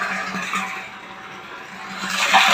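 Water rushes steadily from a newly connected, lengthened pipe, a continuous gushing hiss that swells louder toward the end, close by with no talk.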